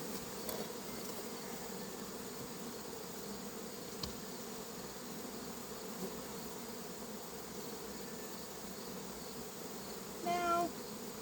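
Honeybees buzz around an open backyard hive during September chores, a steady faint drone throughout with a brief closer buzz near the end and no talking.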